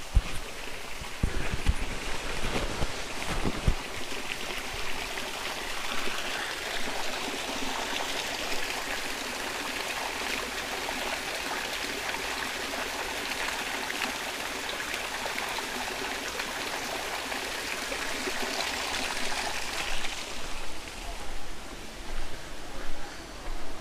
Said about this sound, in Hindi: यहाँ के पानी की आवाज़ को आप फील करें